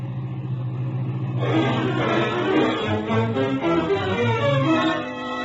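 Car in a radio drama drives up to a ranch pulling a horse trailer, its engine rumbling in after a quiet opening and holding a steady mid-level drone to the end, with no talk over it.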